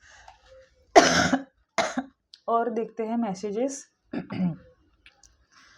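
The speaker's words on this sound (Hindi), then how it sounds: "माफ़ करना खांसी के लिए।" A single sharp cough bursts out close by, followed by a person speaking briefly.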